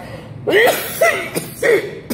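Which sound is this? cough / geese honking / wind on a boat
cough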